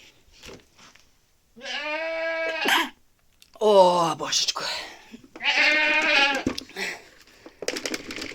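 Several drawn-out bleats from goats nearby, with someone speaking between them.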